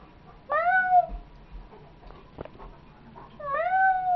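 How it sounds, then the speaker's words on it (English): Two distinct cat meows, one near the start and another near the end, fairly close, with faint rustling between. "This is where you go when you hear kitties"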